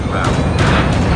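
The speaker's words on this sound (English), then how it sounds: "Enemy sentry gun has been destroyed." In Call of Duty Mobile, an enemy sentry gun is destroyed with a short burst of heavy booming blasts amid game noise, with a voice speaking over it.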